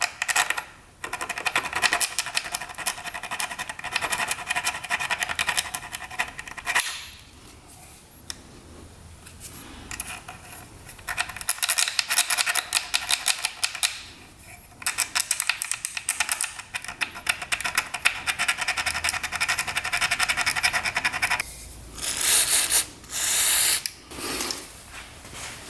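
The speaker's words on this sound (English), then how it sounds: "this file basically just takes off all the gunk that's on there. It's a real fine file" Parts on a 2-stroke motorcycle are worked with a fine file in bursts of rapid, rasping scraping strokes, with short pauses in between.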